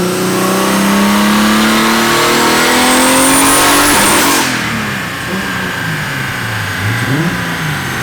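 Turbocharged BMW E36 with an S50 engine runs on a dyno with VANOS off, revving loudly and climbing steadily in pitch for about four seconds before the throttle drops and the engine falls back to a rougher, lower drone.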